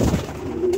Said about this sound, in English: I'm going to let go of all the Spanish Pouters one by one.